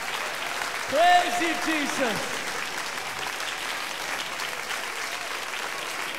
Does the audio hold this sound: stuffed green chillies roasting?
no